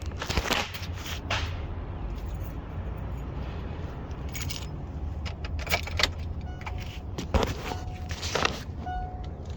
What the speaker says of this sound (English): Gotta have a key in the ignition first. Turn it to the on position.